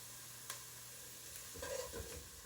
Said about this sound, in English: I'm gonna let these onions saute and sweat a little bit.